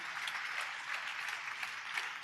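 A church congregation applauds during a Telugu sermon. Many hands clap together in a soft, continuous wash that stays even and somewhat distant throughout.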